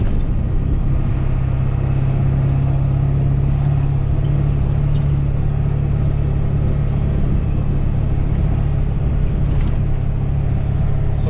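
A pickup truck with a swapped 2005-plus axle and new track bar bracket cruising at about 50 mph, giving a steady, loud low road and engine rumble throughout with no talk.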